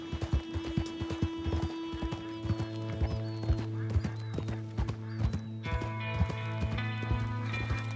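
A horse trotting in Red Dead Online, its hooves clip-clopping in a steady, even rhythm close by, with a whinny and faint tonal game music underneath.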